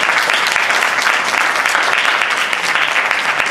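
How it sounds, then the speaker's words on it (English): Graduates and guests at an entrepreneurship graduation in Atlanta break into loud, sustained applause, many hands clapping continuously and evenly with no voices on top. "let's give you guys a round of applause"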